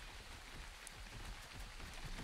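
Rain falling in the video game Ark, a steady even patter of drops on surfaces, continuous and soft with no talk.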